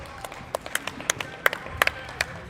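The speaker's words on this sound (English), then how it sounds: "We can only applaud them." Spectators at a padel match in Gothenburg applauding: scattered, fairly sparse claps from a small crowd, individual sharp hits standing out over a quiet murmur.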